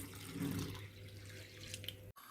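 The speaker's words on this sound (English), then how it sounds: "pour in cold tap water" Cold tap water running into a pot of rice, a soft steady gushing splash that lasts a couple of seconds before cutting off abruptly, followed by faint room noise.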